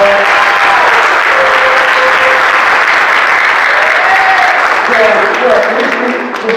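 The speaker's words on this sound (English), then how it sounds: "Give another round of applause." Audience at a fathers' conference applauding, a dense sustained wash of clapping that holds for several seconds before tapering off, with a voice faintly over it.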